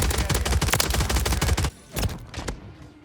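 Rapid gunfire from the aftermarket TYR sniper pistol in a video game, a fast burst of loud cracks for over a second, then a few separate shots with short gaps.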